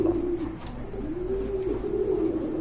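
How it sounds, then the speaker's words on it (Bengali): Pigeons coo close by in a continuous, low, wavering call over a soft background hum, with no talking. "এই যে দেখেন খুবই সুন্দর কোয়ালিটির কবুতর চমৎকার"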